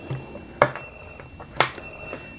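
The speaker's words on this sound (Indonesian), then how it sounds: "alarm berbunyi." An alarm rings in a vertical-mode life simulation video game, two short bright ringing bursts about a second apart over faint background sound.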